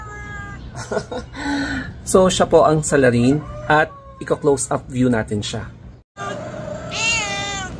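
A feral tabby cat gives several rising and falling meows close by, mixed with a person talking over and between them, and ends on a longer drawn-out meow.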